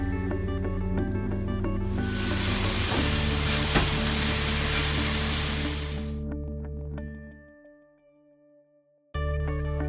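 Loud, steady sizzling of onions being sautéed in a pan with curry leaves for Kerala egg roast, a broad hiss that holds for several seconds, drops away briefly to near quiet, then returns.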